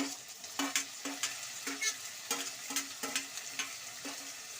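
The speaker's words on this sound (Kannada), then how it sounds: "ಈರುಳ್ಳಿ ಚೆನ್ನಾಗಿ ಫ್ರೈ ಆಗಲಿ" Onions frying in a pan for masala dosa make a bright, steady sizzle with a rhythmic scrape of a spatula stirring roughly every half second, close and fairly quiet.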